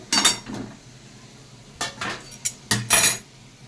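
A pan of fried potatoes comes off the stove in a home kitchen with several clinking metal clatters, a pair at the start and a cluster near the end, close by with quiet between.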